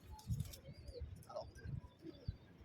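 Domestic pigeons in a pigeon loft give soft, low repeated coos with a few faint chirps, moderately close in a quiet setting.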